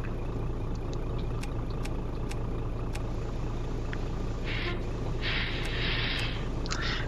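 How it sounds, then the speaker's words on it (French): A modded truck engine in Euro Truck Simulator 2 idles with a steady, low, continuous rumble, joined by a few brief higher hisses and clicks, with no talking. "j'ai installé un mod, hein, qui améliore grandement les bruits des moteurs"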